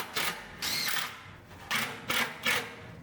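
A power drill drives number 8 by 2-inch deck screws into a wooden bed frame inside a vintage camper trailer, in several short whirring bursts with brief pauses between them, close and fairly loud.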